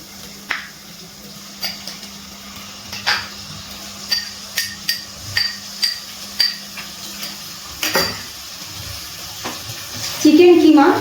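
Chicken keema stirred with masala and capsicum in a pan over a medium gas flame, a steady run of sharp spatula scrapes and clinks against the metal over a low sizzle, loud and close, with a brief hiss near the end.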